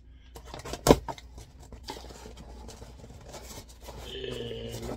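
Scissors cut open a sweepstakes prize package of Nutella Biscuits, with a loud close snip followed by softer rustling and scraping of the packaging, no voices.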